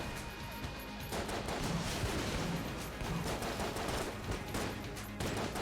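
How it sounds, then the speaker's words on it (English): A shotgun fires in the Enter the Gungeon video game amid a dense, chaotic din of overlapping blasts and crashes that runs continuously and fairly loud. "I like using the shotgun here."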